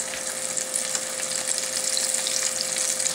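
Onion rings fry in hot oil with a steady, close sizzle and crackle that stays constant. A faint tonal hum runs underneath.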